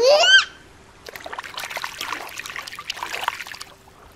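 A quick squeak is followed by a brief pause, then a run of light splashing and trickling water as a toy walrus goes into the water, soft and close.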